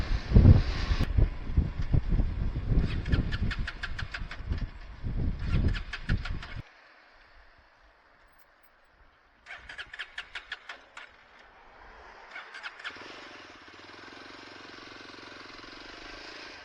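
A Yezdi motorcycle cruises in fourth gear, its engine throbbing in loud bursts that drop to near silence, then return with steady wind rush.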